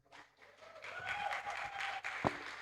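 Conference audience applauding an award of excellence presented to a staff advisor, a moderate, somewhat distant wash of clapping that swells and continues, with a sharp nearby knock partway through.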